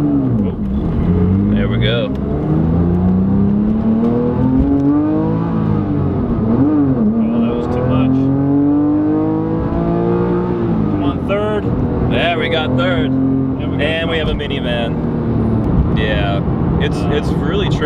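A Porsche GT3 revs and accelerates onto a highway on-ramp, its engine note rising and falling through gear changes, loud and close inside the cabin with someone talking over it.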